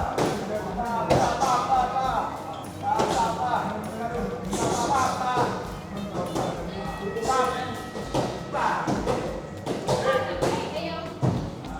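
Repeated dull thuds and slaps of strikes on pads and bags in a Muay Thai gym in Thailand, irregular and busy, echoing in a large room behind a constant wash of activity.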